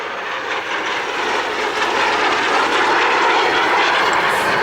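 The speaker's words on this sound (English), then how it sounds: "I think he's going to fly by on the knife edge." BAC Jet Provost jet aircraft flying past at the Cosford airshow, a loud, steady jet roar that swells as it nears, with no talk.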